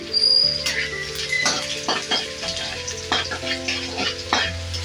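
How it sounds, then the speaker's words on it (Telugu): Finely chopped garlic and ginger frying in a pan for chicken fried rice, giving a steady close sizzle with repeated scraping stirs throughout. "ఇలా మొత్తం వేసుకొని బాగా ఫ్రై అవ్వనిద్దాము."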